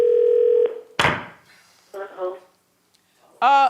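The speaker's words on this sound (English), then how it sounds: "Let's get today's caller on the line." A telephone dial tone hums steadily for under a second, then a thunk as the line connects, followed by short voices talking.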